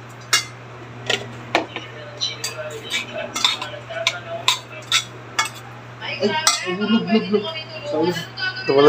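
Utensils clink and scrape against a bowl while dinakdakan ingredients are mixed and salted, a series of close, sharp metallic taps and stirring scrapes over a steady low hum, with someone speaking.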